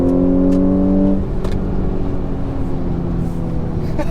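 Audi S5 engine pulling hard on a motorway after a downshift, a loud steady harmonic drone that sheds its strong tonal bands after about a second and settles into a rougher, broadband roar.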